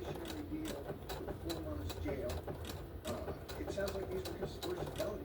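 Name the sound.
sewing machine serging the edge of small pockets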